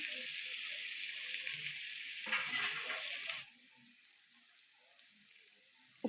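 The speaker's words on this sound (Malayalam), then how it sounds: "അരിഞ്ഞു വെച്ച വാഴക്കൂമ്പ് ഞാൻ ഇതിലേക്ക് ഇട്ട് കൊടുത്തിട്ടുണ്ട് ഇനി ഇതിലേക്ക് ആവശ്യത്തിനുള്ള ഉപ്പിട്ട് കൊടുക്കാം" Chopped banana flower tossed with salt stir-fries in a hot pan, a steady close sizzle that swells briefly with stirring before dropping to a quieter hiss, ending with a sharp clink.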